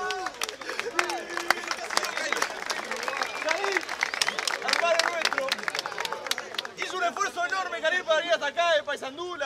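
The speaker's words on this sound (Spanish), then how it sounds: "Fuerte aplauso para acá." An audience applauds loudly with scattered sharp claps and crowd noise, then the clapping thins as cheering voices and talk take over toward the end.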